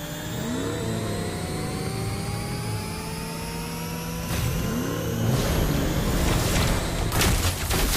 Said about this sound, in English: Hold tight! I'm stepping on the gas!